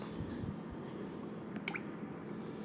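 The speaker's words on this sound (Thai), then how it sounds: "ใส่ซีอิ๊วขาวลงไปครับ1ส่วน4ถ้วยนะฮะ" Light soy sauce, a quarter cup, trickles and drips into a tomato-based sauce for Thai red pork rice, faint and close, with a soft splash near the end and no talking.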